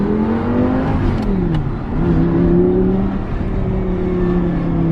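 An Audi R8 V10 Plus engine runs steadily with a smooth, moderately loud drone, the pitch rising and falling gently in mild revs, no talk over it.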